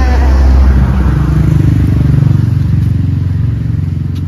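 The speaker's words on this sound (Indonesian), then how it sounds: "Lah ana motor menggo" A motorcycle passes close by outdoors, a loud, steady engine drone that swells and eases slightly over a few seconds, with no voices over it.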